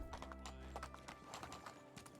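A donkey named Don trots along in the Medieval Dynasty video game, its hooves clip-clopping in a quick, even rhythm, crisp and fairly close, with low background ambience.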